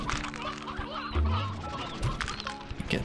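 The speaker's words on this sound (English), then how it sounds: "I think some wild chickens spawned out here too." Several chickens cluck and squawk in Slime Rancher 2, a busy layered chatter of fowl calls that goes on the whole time among soft game sounds and music.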